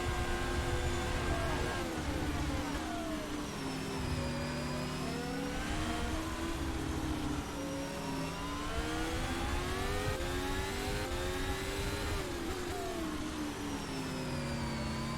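Racing car engines in a championship race round in a racing video game, a continuous dense whine of several engines revving and shifting pitch together, loud and steady with no talk.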